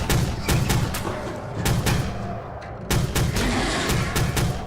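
Bursts of gunfire in a Stranger Things scene as Hopper shoots at attacking monsters: loud, repeated booming shots in clusters, with heavy low thuds and dense action noise between them.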